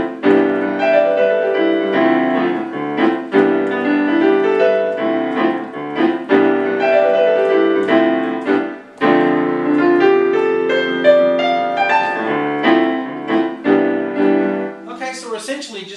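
Solo piano plays a jazzy vamp built on three chords with scale runs, loud and close, with rhythmic chord stabs and melodic lines running continuously for about sixteen seconds before trailing into higher flourishes.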